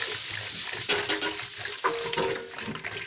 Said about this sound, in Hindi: क्या आपको पता है दही कैसे मथा जाता है?